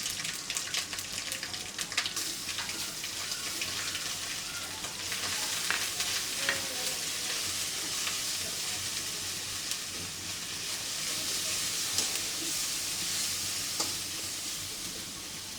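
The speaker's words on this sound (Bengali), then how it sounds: "মশলা কষানো অনেক সুন্দর হচ্ছে, পেঁয়াজ ভাজা হয়ে গেছে" Onions and spices fry in a pan, giving a fairly soft, steady sizzle with occasional light stirring sounds throughout.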